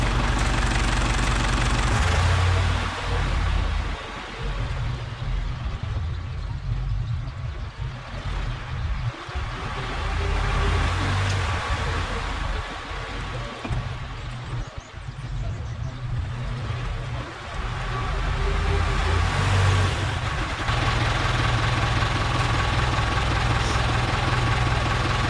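A vehicle engine idles and works steadily while scraping a dairy barn floor, a loud, continuous rumble with some knocking, and dips and swells in the middle.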